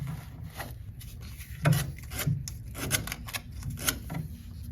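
Poly-B plastic water pipe is cut through by a tool during a coupling replacement, giving a series of short, close rasping and scraping strokes with uneven rhythm and no voices.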